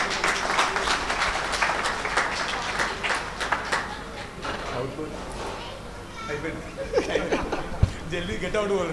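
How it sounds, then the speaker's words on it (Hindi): An audience at a peace festival volunteer event applauds for their guru, a dense patter of many hands clapping that fades out partway through, mixed with chatter and light laughter under ongoing talk. "हमारा गुरुजी के लिए भी एक तालियां बजा"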